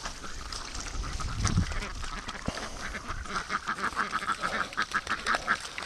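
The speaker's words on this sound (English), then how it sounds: "Muscovies are so hard to herd because they're so slow." Muscovy ducks being herded outdoors, giving a run of quacks and rustling calls that grow into a steady, rhythmic chatter in the second half, with a few faint sounds of movement nearby.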